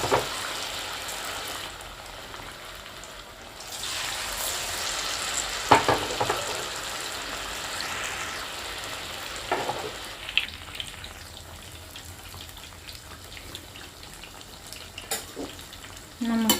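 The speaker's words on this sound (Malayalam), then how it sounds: "അപ്പോൾ എണ്ണ ചൂടായി. അപ്പോൾ നമുക്ക് ഒരെണ്ണം കൂടി ഇട്ട് കൊടുക്കാം." Banana fritters (pazham pori) sizzle and bubble in hot oil, with a continuous frying hiss, a few sharper spatters and utensil knocks, heard close up without speech.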